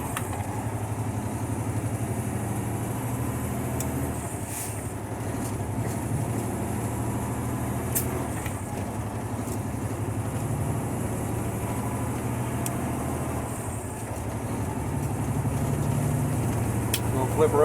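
Volvo VNL truck with an Eaton 18-speed transmission pulling away, a steady low diesel engine drone that swells slightly toward the end, heard from inside the cab.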